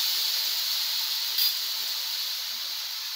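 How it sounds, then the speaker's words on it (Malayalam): Ginger garlic paste sizzling in a pan as it is stirred, a steady bright hiss that holds throughout at fairly loud level, with one brief spike near the middle. "ഒരു ടീസ്പൂൺ ഇഞ്ചി വെളുത്തുള്ളിയും പേസ്റ്റാണ് ഇതിലേക്ക് ചേർത്ത് കൊടുക്കാം. ഇഞ്ചി വെളുത്തുള്ളി ആ പച്ചമണം മാറണ വരുന്ന ഇളക്കി കൊടുക്കാം."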